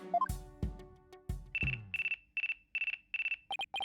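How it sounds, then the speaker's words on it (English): A phone ringtone in Ace Attorney Dual Destinies: a few rising tones and sharp chimes, then a loud, regular series of electronic beeps repeating at an even pace, ending in quick pips, with no talk. "It looks like I have a phone call."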